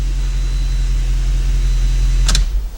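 A Lexus LS430 idles steadily in a closed garage with its fuel pump just replaced, a low, even engine hum running throughout and a brief higher-pitched click or beep near the end.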